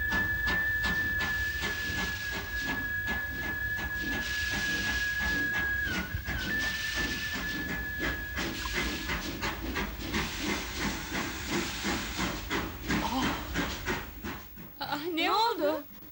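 Steady steam train hiss runs loud and continuous throughout, with a thin whistle-like tone in the first half and voices talking over it.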